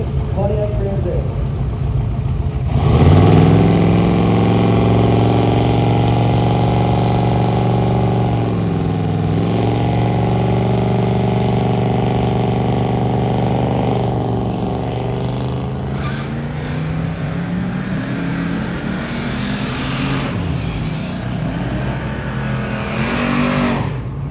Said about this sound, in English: Jim McGregor in the right lane, Pontiac Grand Am.